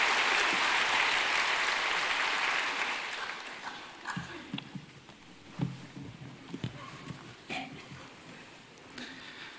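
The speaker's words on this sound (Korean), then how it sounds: "이홍주 성도님 나오실 때 박수로 환영하겠습니다" A church congregation applauds to welcome a speaker, a dense burst of clapping for about four seconds that fades, then gives way to scattered footsteps, shuffling and small knocks in the quieter room.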